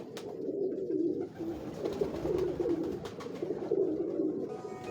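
Pigeons cooing steadily on a Lahore rooftop, soft overlapping coos close by that continue without pause against a light background hiss.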